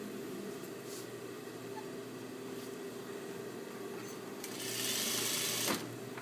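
A sewing machine stitches a skirt seam with a continuous fast mechanical whir, close and even, with a few light clicks and a brief rustle of fabric near the end.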